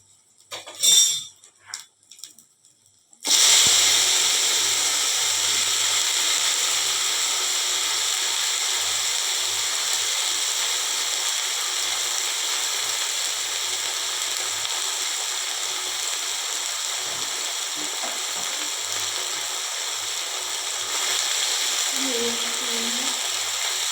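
Chopped vegetables for neem shukto hit a hot pan with a brief clatter, then settle into a steady, loud, hissing sizzle that runs on evenly for a long stretch, close up and with no talking.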